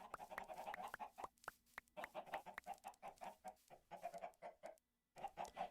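Chickens in a Minecraft modpack cluck over and over in quick, overlapping bursts, faint and steady, with one short pause near the end.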